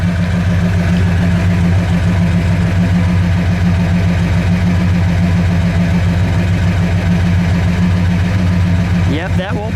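A 1969 Dodge Charger R/T with a 426 Hemi and a four-speed idles close by. Its deep, lumpy rumble holds steady throughout, with a faint change near the end.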